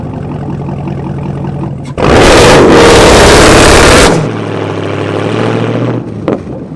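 A modified Chevrolet Camaro ZL1 V8 runs, rumbling at idle before a loud two-second rev that drops back to a steady, lower idle, with a short blip near the end.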